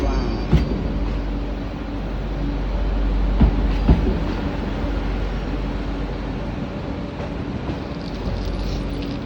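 Trains arriving at and leaving a station, a steady loud rumble of rolling wagons with a few sharp metallic clacks, close by and continuous.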